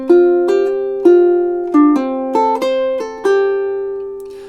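Ukulele and acoustic guitar duet through a short two-measure passage, plucked melody notes stepping over sustained chords, close, clear and moderately loud with no talking.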